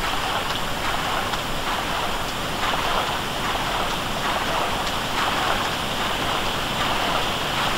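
A rushing waterfall in Madubu Gorge in Tomb Raider 3 on PS1, a steady broad roar of falling water that holds even and loud throughout with no voices.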